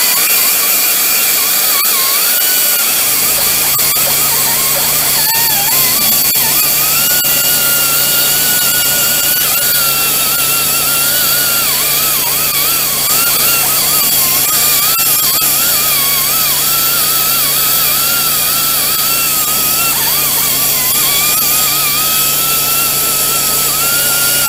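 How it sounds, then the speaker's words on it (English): Angle grinder fitted with a 3M disc working on a car hub assembly of a 2012 Dodge Avenger SE, a loud steady high-pitched whine running continuously with slight pitch wavering, no talk over it. "normally what I use is one of these angle grinders with 3M on there"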